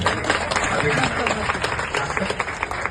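An audience claps together at a Shri Swami Samarth devotional gathering in Mulund East honouring a woman's written letter, with steady dense clapping sustained throughout and a voice speaking over it.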